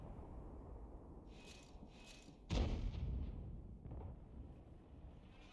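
Artillery fire from an FV207 self-propelled gun in a tank video game: one loud, deep boom stands out, followed by a rumbling tail and a softer thud, over steady low battlefield ambience.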